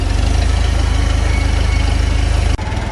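A Cub tractor engine runs at half throttle, a loud, steady, close throbbing drone with no voices, dipping briefly near the end.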